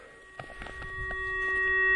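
A metal detector sweeping for finds in the Carpathian mountains gives off a steady electronic tone with several pitches that swells gradually louder, with a few soft knocks and rustles near the start.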